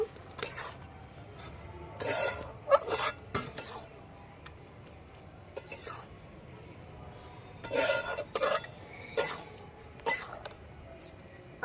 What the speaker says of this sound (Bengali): দিয়ে দেবো মূলোটা দিয়ে ভালো করে ডালের সঙ্গে মিশিয়ে নেব